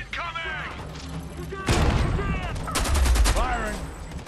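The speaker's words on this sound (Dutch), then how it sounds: "we gaan ondertussen even de LMG gebruiken" Bursts of LMG light machine gun fire in the video game Homefront: The Revolution, two loud rapid volleys punctuating a player's talking.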